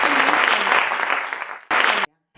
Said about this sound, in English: Could you give Bibiana a big round of applause?